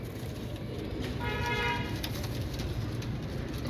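Pigeons cooing amid a steady hum of ambient noise, with soft bird calls rising briefly in the middle.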